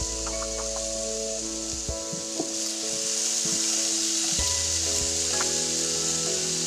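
Mushrooms sizzle in a pan with other vegetables and black beans, a loud close hiss of frying oil that runs steadily, with a few faint clinks of a utensil.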